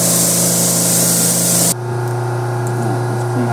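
A loud hiss of pressurised water rinses the engine bay of a BMW F10 M5, then cuts off abruptly, leaving a steady low hum of an idling pump or engine nearby.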